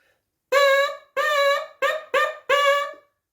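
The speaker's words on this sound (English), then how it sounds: "I am going to play some patterns or some rhythms on my mouthpiece." Brass mouthpiece played alone: five buzzed pitched notes in a short rhythm, two longer, then two quick, then a final held note, close and clear, with silence around them.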